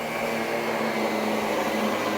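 A Miele Guard L1 Electro vacuum cleaner with a power head runs on carpet at its lowest suction setting, giving a steady, loud, continuous motor whine and airflow hiss with no talking.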